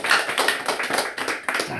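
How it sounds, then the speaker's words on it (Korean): Church congregation clapping together in rhythmic unison: a quick, even series of claps, about four per second, close and moderately loud, with no talking. "박수 한번 하겠습니다."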